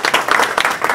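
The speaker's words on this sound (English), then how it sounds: "Let's give her a big round of" A small group at a Rotary Club meeting claps for a guest, producing a brief burst of scattered, fairly close hand claps that lasts about a second.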